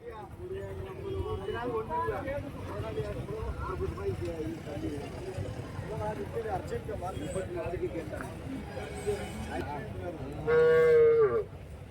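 Cattle moo at a livestock market in Karimangalam, Dharmapuri, where milking and pregnant cows are sold. People talk over the market bustle throughout, and one loud, drawn-out moo rises near the end.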